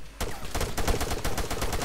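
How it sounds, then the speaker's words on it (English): Rapid bursts of video game gunfire in a shooter, a dense string of loud, close shots firing almost continuously after a brief quiet start. "Oh, someone shot me!"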